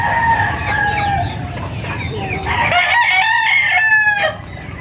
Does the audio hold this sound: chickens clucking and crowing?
yes